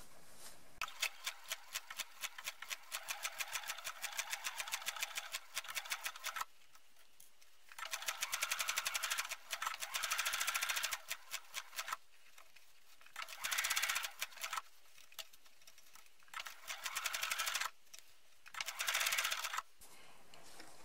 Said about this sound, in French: on va faire une petite couture tout autour ici pour maintenir la doublure